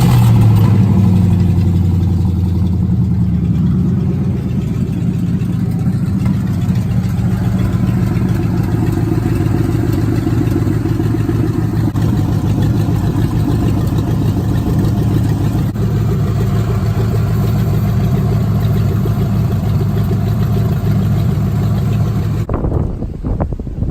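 Ford Mustang GT engine running loud and close after a battery reconnect, a steady mid-pitched idle with a slight clatter that holds for over twenty seconds before cutting off abruptly.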